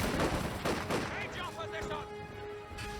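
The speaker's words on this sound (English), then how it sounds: "Nice little tactical blobble group of infantry and machine guns being met by Noggano in force." Rattling gunfire from infantry and machine guns clashing in a Company of Heroes 2 tournament match, a steady clatter of shots under a caster's excited commentary, fairly loud throughout.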